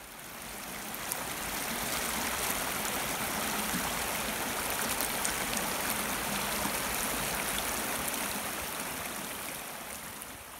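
Jennings Creek in the Blue Ridge Mountains of Virginia flowing below a footbridge, a steady, even rush of moving water heard from above, soft and continuous with no voices.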